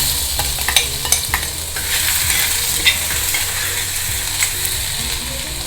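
Ginger, garlic and cumin fry in hot oil for a vegetable kurma, a loud close sizzle with repeated scraping stirs of a spoon against the pan.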